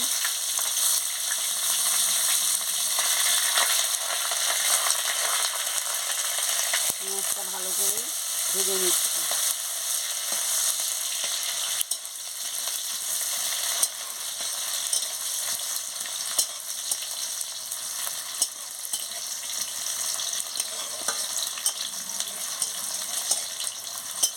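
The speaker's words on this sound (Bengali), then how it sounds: "আমি পেঁয়াজ কুচিটা দিয়ে দিচ্ছি" Chopped onions frying in a pan, a steady broadband sizzle running throughout with occasional stirring scrapes, close and fairly loud, with no talking.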